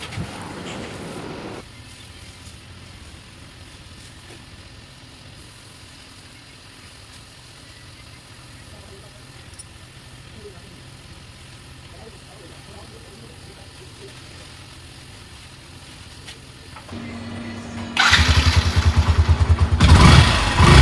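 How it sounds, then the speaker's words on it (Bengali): A Yamaha SZ RR motorcycle engine is started near the end and runs loud and close, after a long stretch of quiet mechanical background. "তো এই হলো গাড়ির অরিজিনাল সাউন্ড"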